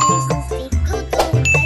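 A bright bell dings serve as a subscribe reminder sound effect: a short sequence of clear chimes and tinkles over a soft musical bed, each strike ringing briefly before the next.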